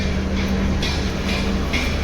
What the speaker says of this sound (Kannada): ಯಾವುದೋ ಒಂದು ಟ್ರೈನ್ ಬರ್ತಾಯಿಲ್ಲ, ಟ್ರೈನ್ ಇಂಜಿನ್ ಬರ್ತೈತೆ